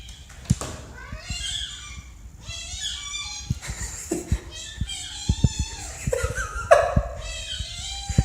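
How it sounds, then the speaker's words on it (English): A cat gives a few high, squeaky meows that sound like a squeaky toy, close and fairly faint, with soft background voices and scattered handling bumps. "This cat sounds exactly like a squeaky toy."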